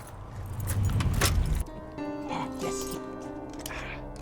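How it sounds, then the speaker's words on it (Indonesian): A bunch of keys hanging together with a car key jangles inside a car in a brief, close metallic rattle, followed by a low, steady tonal backdrop. "menyadari beberapa kunci yang tergantung bersama kunci mobil"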